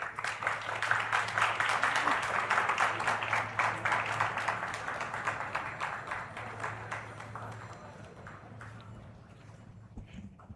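Audience applause for dignitaries on a dais at a valedictory session, a dense wash of clapping that starts strong, gradually thins and fades out toward the end.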